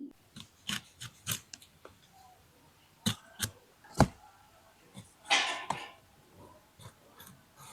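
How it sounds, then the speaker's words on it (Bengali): Taro stolons (kochu loti) being cut by hand in a home kitchen while fish is prepared, a run of sharp, separate snips and scrapes at close range with brief pauses between them and almost no talk. "কচুর লতি কেটে নেবো।"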